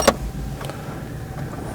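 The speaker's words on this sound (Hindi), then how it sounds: "तो हम गाड़ी को स्टार्ट कर लेते हैं।" A 2016 Suzuki Cultus Limited Edition is started with a plain key, opening on a sharp crank burst that settles into a steady low idle rumble close by.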